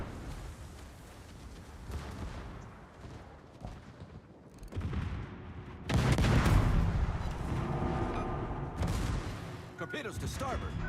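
Enemy naval gunfire slams into a battleship in World of Warships, heavy booming impacts and explosions building from moderate to loud, with rumbling blasts near the middle and end, and voices talking underneath.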